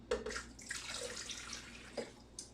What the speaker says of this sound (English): So we're going to add enough water, filtered water, for a cup of coffee.